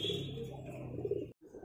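White Karna pigeons coo softly in a low, steady, throaty murmur, faint and close, cutting off briefly near the end.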